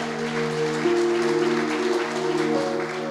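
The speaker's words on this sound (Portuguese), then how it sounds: "Aplauda Ele." A church congregation applauds during a Portuguese-language worship service, sustained loud clapping from a crowd with a steady sustained tone, likely music or organ, underneath.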